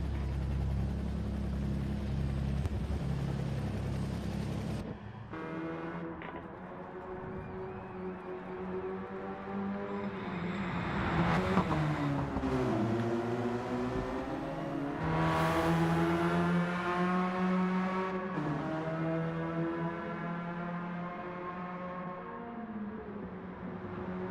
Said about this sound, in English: drifting that little Red Bull Radical into that